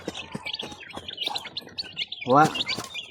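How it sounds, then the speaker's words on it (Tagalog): Chicks chirp in a backyard farm with gamefowl, repeated high peeping tweets close by, interrupted by a louder cluck-like call, while someone speaks quietly in the background. "Yan yung mga sisiw, oh."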